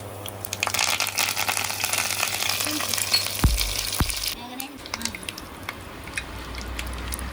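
Curry leaves crackle and sizzle in hot oil, tempering for a drumstick leaf chutney, a bright hissing spatter that fades after a few seconds, close and fairly quiet.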